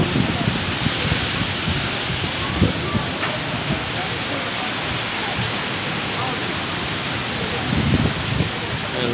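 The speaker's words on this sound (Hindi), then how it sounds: "अल्लाह रहम की बारिश" Heavy rain pouring down in Islamabad, a steady dense hiss throughout with slightly louder surges near the middle and end, and voices talking faintly underneath.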